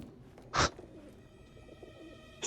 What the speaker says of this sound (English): There's just pigeon sounds inside this tower.